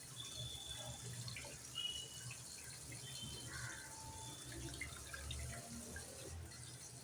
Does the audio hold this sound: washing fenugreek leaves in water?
yes